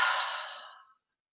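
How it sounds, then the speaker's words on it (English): A single deep, breathy exhale during a guided spring equinox healing meditation, starting strong, close and clear, then fading out within about a second into silence. "deep breath out."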